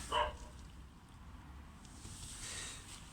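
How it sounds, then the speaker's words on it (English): A dog near a garden campsite at night gives one short, faint bark at the start, then only quiet background hiss follows. "if that dog keeps on barking throughout the night"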